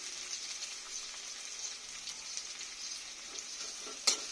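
Ginger frying in oil in a pan for an okra mash, a soft continuous sizzle with a light clink of a utensil near the end, no talk.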